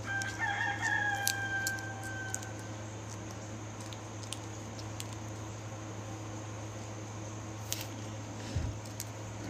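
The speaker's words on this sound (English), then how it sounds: "It's my Rhode Island Red. I can tell which crow's which." A Rhode Island Red rooster crows near the start, one clear cock-a-doodle-doo lasting about two seconds. After it comes a steady low hum and quiet outdoor background, with no talking.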